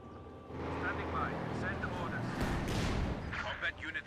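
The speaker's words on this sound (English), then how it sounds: "More artillery fire there from the heavy mortar" Heavy mortar artillery in Company of Heroes 2 thumps and rumbles at a distance under steady commentary, with whistling shells and blasts building in the middle.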